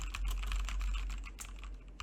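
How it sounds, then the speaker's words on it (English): Fingers typing on a computer keyboard at a desk, a quiet run of quick, uneven key clicks heard close with no talk. "I'm not sure how it will pick up my keyboard sounds"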